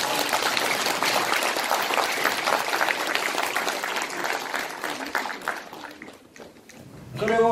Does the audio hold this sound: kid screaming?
no